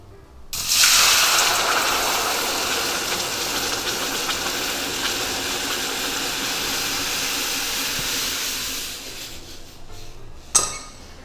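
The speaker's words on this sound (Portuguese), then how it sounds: "E aí agora eu pego água, vou aqui nessa panela aí." Water poured into a cooking pan of caramelizing ingredients makes a loud, steady gushing hiss that lasts about eight seconds, then stops. A single clink of metal follows, with no talking.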